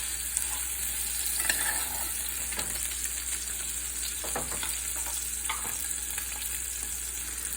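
A flounder fillet pan-frying in oil gives a steady, even sizzle with faint crackles and pops scattered throughout, close and uninterrupted.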